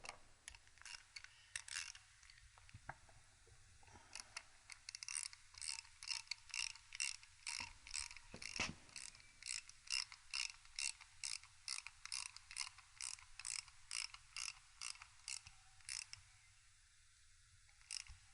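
A ratchet works on bolts during a Triumph T120 motorcycle engine rebuild, giving off a long run of fast, crisp clicks in uneven bursts, close and fairly quiet, with occasional metallic knocks.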